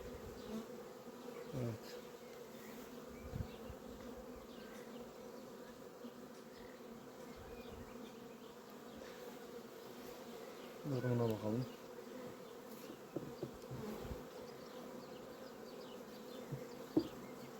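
Honeybees buzz around beehives on a rainy-season day, a steady, low droning hum that goes on throughout, with one bee passing close for a louder swell midway.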